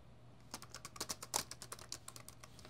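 Close, quiet keystrokes clatter on a computer keyboard in an irregular burst of typing with one or two slightly harder key presses, no voice over it.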